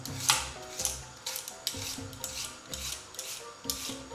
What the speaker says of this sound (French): nous allons terminer d'éplucher nos asperges